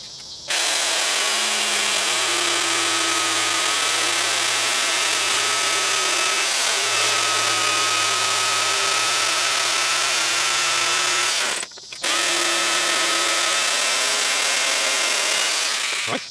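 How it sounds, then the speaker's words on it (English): A jigsaw cutting through shield material, a loud continuous buzzing drone that runs steadily, drops out briefly near the end, then resumes, with no talking. "do the same thing with a jigsaw"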